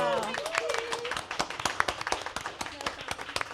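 Scattered hand claps from a small group at the close of a festive online creative circle session, irregular and moderately loud, with voices and cheerful talk over them throughout.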